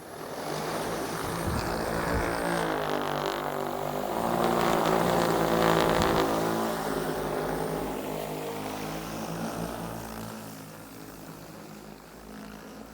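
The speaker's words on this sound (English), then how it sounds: "how you actually take off and resume the mission with both drones" Large agricultural spray drones, an XAG P100 Pro and a DJI Agras T40, fly overhead with a loud, steady rotor drone that swells as they pass close and then fades with a shifting pitch.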